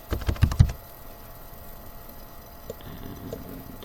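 Quick burst of computer keyboard typing, about half a dozen close clicks while contact details are entered, then near silence with a few scattered soft taps.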